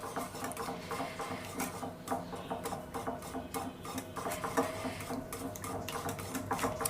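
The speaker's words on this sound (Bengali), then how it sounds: "এটাকে ভালোভাবে ফেটিয়ে নিতে হবে।" Eggs are beaten briskly in a bowl for a Spanish potato omelette, a fast, steady patter of whisk or fork clicks against the sides that continues evenly throughout, close up and moderately loud.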